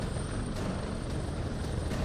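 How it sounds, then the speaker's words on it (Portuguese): Helicopter in the video game Prototype 2, a steady broadband rotor and engine roar held at an even level throughout, with no voices over it. "a gente tem que proteger esse helicópterozinho aqui"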